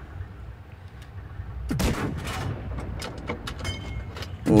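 A tank cannon booms in World of Tanks Blitz, a single heavy shot with a rolling, rumbling tail over low engine drone, followed by lighter clanks and a second loud blast at the end.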